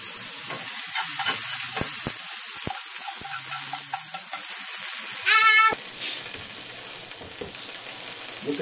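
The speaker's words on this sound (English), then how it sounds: "Yeah, fried garlic." Garlic frying in a pan while lobster is being cooked, a steady soft sizzle with scattered crackles and pops throughout, plus a brief bright clatter midway, close and fairly quiet with no talking.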